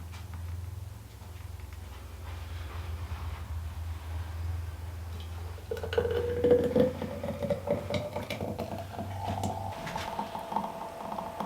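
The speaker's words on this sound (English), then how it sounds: "And that's my lids on, nice and tight." Hot glass jars of freshly made orange or lemon curd having their lids screwed on tight, a low steady hum underneath with a run of light clicks, taps and glassy clinks partway through.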